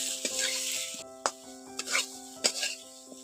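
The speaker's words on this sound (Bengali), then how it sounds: "ওর সঙ্গে একটু মশলার সঙ্গে একটু এগুলোকে কষে নিচ্ছি" Boiled potatoes and moringa drumsticks are stir-fried in spice paste for shukto. Soft sizzling runs under a few sharp, irregular scrapes and knocks of a spatula against the pan, with a steady low hum behind.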